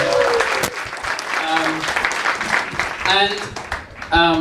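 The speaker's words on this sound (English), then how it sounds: "So a big round of applause for yourself" Applause from an audience at a YouTube creators' camp in Cebu, mixed with talking and cheering voices, rising again strongly near the end.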